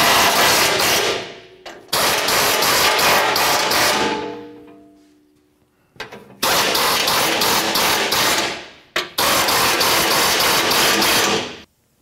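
Close ratchet wrench clicking in long steady bursts while tightening radiator mounting bolts on a 2004-2015 Nissan Titan pickup, the runs separated by brief pauses, loud with no talking.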